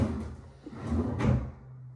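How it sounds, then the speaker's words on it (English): A soft-close cabinet door on an updated bathroom vanity with a stone countertop swings shut, giving a muffled, cushioned thump about midway, with a low room hum carrying on after it. "soft closed cabinets"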